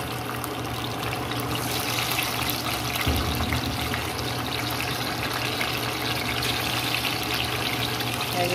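Food, including lemongrass, hits hot cooking oil in a pan and sizzles with a steady, close, broadband hiss that continues without talk.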